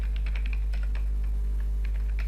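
Quick bursts of key taps on a computer keyboard while typing a web address, close and clear over a steady low electrical hum, with no speech.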